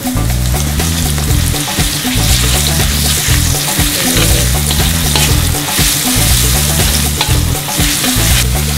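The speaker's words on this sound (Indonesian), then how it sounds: "Masuk bumbu yang dihaluskan, terdiri dari apa tadi, ketumbar, bawang putih, kencur," A ground paste of coriander, garlic and kencur sizzles loudly in hot oil for tempe dish, with continuous crackling frying and stirring scrapes throughout, close and dense.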